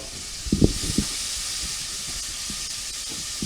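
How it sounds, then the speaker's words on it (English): Peppers sizzle in a hot pan as a glaze starts, a steady hiss with a few sharp pops and crackles early on. "I am going to put these peppers in there right away and get a glaze going. Now we got the sizzle coming."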